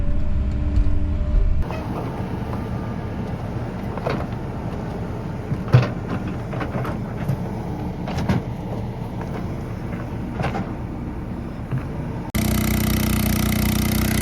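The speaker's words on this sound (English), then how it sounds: "with the subtle purr of a little Honda engine" A small Honda engine pumping water at a pond dam building site gives a steady low purring drone. The hum is even and moderately quiet throughout, with a few faint knocks and no voices.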